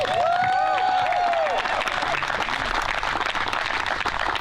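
An outdoor crowd applauds at the Clash at the Canyons disc golf tournament, a sustained wash of clapping and cheering with a whistle early on, moderately distant.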